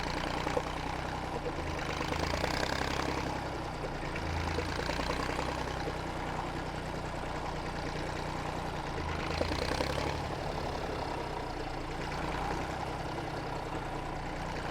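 A 1959 Fordson Dexta tractor engine running at low speed, a steady low rumble and chug with gentle swells in intensity, heard faintly from the driver's seat with no talking.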